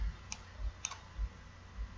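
Two quick, faint mouse clicks a fraction of a second apart while configuring VPN deployment in Windows Server 2016, isolated against a quiet background hum.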